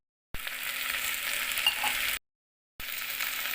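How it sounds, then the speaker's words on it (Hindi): Tadka tempering sizzles loudly in a handi pot for a kundru (ivy gourd) curry, a steady hissing fry that cuts out abruptly, falls silent, then resumes just as strong. "मतलब तड़का ही लगा रही हूँ।"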